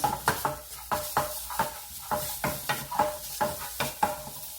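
Rhythmic scraping and clacking of a spatula stir-frying meat and shiitake mushrooms in a pot over a steady sizzle, strokes repeating about twice per second.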